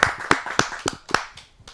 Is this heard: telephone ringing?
no